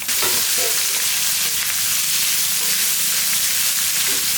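Two large onions, sliced lengthwise, fry in a pan for urad dal chutney, giving a loud, steady, close sizzle with no pauses and no voices.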